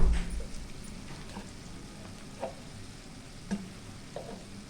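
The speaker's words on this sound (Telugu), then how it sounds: "ఇప్పుడు దీంట్లో కొద్దిగా అల్లం వెల్లుల్లి పేస్ట్ వేద్దామండి." Ginger garlic paste frying in a pan for egg curry, a low continuous sizzle broken by a few distinct spoon scrapes and clinks, close by with no speech.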